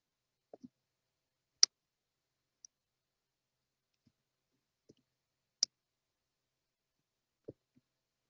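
Isolated computer mouse clicks while operating Weka data-mining software, a few sharp dry clicks spaced irregularly over several seconds in an otherwise quiet room.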